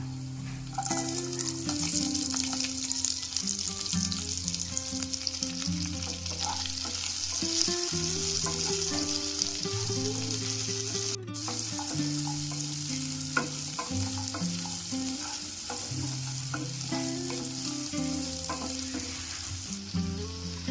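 Onions fry in a hot pan for paneer masala gravy, giving a close, steady sizzle. Occasional scraping from stirring runs through the sizzle without pause.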